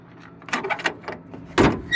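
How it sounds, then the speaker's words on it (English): A truck door is unlatched, swung open and shut during a pre-trip inspection in WA: a few quick metallic clicks and rattles, then a solid, loud close-range slam. "Door opens and closes."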